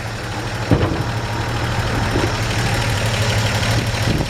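The Chevy 235 inline-six engine of a 1954 Chevy 3100 pickup idles steadily and smoothly, a close, even low rumble with a faint tick or two and no voices.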